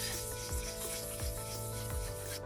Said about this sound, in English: So we're taking everything very light here, and these are wet dry sandpaper